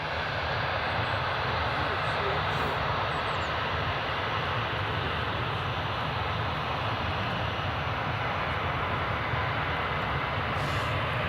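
An Aer Lingus Airbus A320 on approach to Edinburgh Airport makes a steady, dense engine rumble and roar that holds constant throughout, heard from a distance.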